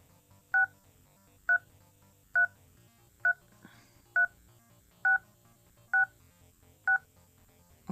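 Eight evenly spaced dual-tone beeps from an Android Oreo phone dialer keypad, each short and clear, repeating at a steady rhythm over a quiet background with no speech.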